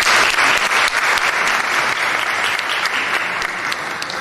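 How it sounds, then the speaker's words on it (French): Audience applause for an author at a literary event, thick continuous clapping from a crowd, loud and close, lasting the whole few seconds without talk. "Est-ce qu'on peut l'applaudir, s'il vous plaît?"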